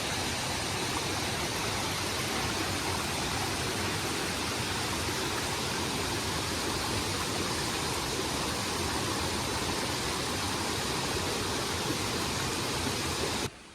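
Waterfall and rushing creek water at its base, a steady broadband roar that stays loud and unbroken throughout with no voices over it.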